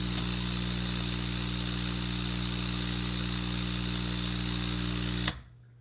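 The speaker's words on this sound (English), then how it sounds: "This is what the piston pump sounds like not connected to anything." A Medo electromagnetic piston air pump runs unconnected, producing a steady buzzing drone with a bright airy hiss layered on top, constant and close for over five seconds before stopping abruptly.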